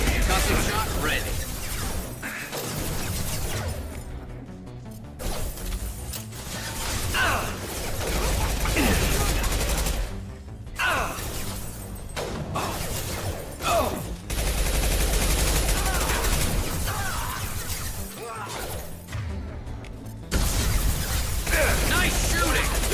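Rapid gunfire and clattering weapon mechanics from a Mass Effect 2 firefight against Vorcha gangs on Insanity difficulty, dense and loud throughout, with bursts broken by a few brief lulls and a voice speaking over it.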